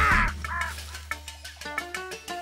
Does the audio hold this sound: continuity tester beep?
no